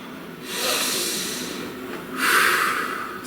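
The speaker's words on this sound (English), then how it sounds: "Please take a nice deep breath." A slow, deep inhale and exhale, airy and close, with a soft rush of breath swelling twice and a brief nasal snort-like edge, with no talking.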